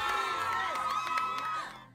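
A crowd of fans shouting and cheering at an event, a dense wall of high excited voices and screams, sustained and loud before fading out at the end.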